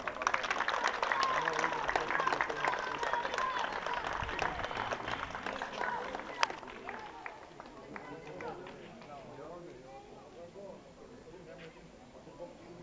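A crowd claps loudly and steadily for several seconds at a Bulgarian footballers' association awards event, then the applause thins out and fades, with murmured talk underneath.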